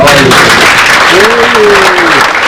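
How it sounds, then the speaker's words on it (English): Applause from a crowd at an awards banquet for model aircraft competition finalists, loud and sustained, with voices briefly rising over the clapping. "A big round of applause for all these"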